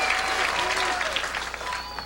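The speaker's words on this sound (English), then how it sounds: "still an appreciative round of applause here at the Miller High Life Open" A bowling crowd at the Miller High Life Open gives a warm round of applause, dense clapping close and steady for a couple of seconds.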